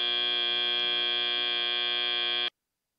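End-of-match buzzer at a robotics competition, a single loud, steady electronic buzz held for about two and a half seconds before cutting off abruptly into silence.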